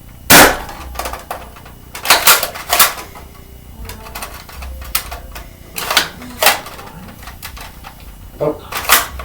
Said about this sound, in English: Now shotgun loading.